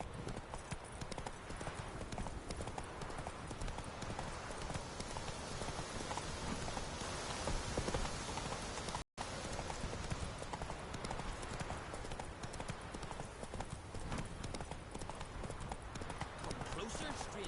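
Horse hooves clip-clopping at a steady gallop in the video game The Witcher 3, set in Skellige, a continuous rhythmic patter running loud and close under a rain-like hiss, with speech heard over it and a brief dropout midway.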